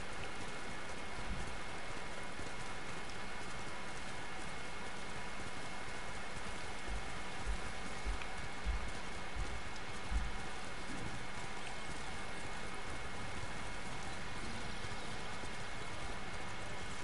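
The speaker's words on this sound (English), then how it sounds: "Nice rain" Steady rain falls in the video game Ghost of Tsushima, a continuous soft hiss with a few faint clopping sounds at the low end, heard alone without talk.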